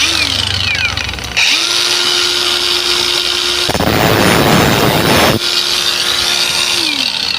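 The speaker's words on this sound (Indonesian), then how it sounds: "Kita pasang di bor, terus kita gerinda." An engine valve from a stock cylinder head is chucked in a spinning drill and ground down from 28.5 to 28 mm. A steady motor whine carries throughout, broken by a loud, rough grinding burst in the middle.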